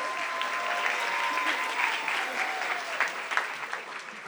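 A round of applause from the audience at a hospital heroes awards gala, steady and fairly distant, with faint voices and a thin tone running underneath.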